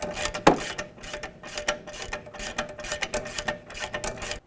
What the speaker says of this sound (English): we'll go ahead and snug these up and torque them to manufacturer's specification